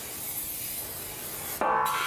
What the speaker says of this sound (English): give you the non-stick spray to coat the inside of the slow cooker